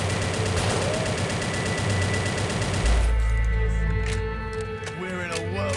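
Gunfire and explosions in the World War 2 strategy game Soldiers: Heroes of World War 2, with dense rapid bursts that sound continuous under a speaking voice, then a heavy low boom followed by scattered shots.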